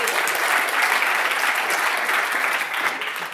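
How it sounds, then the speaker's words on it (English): Sustained applause from a conference audience in Amsterdam greets a speaker being introduced, a dense wash of clapping hands that carries steadily throughout and eases slightly at the end. "Ladies and gentlemen, a warm hand of applause for Martijn Wismeijer."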